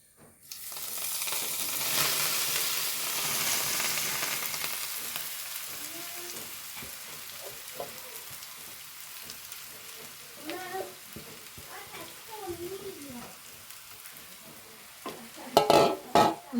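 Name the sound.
taro leaves being stir-fried in a pan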